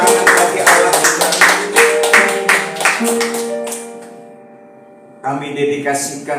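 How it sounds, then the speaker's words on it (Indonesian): A church congregation at a Sunday service claps in a steady, even beat over live worship music for a few seconds; the clapping fades, then singing and amplified voice return. "Beri tepuk tangan bagi Allah kita."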